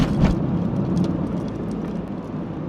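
A car cruising along a road gives a steady low rumble of engine and tyre noise, even and continuous with no sharp events.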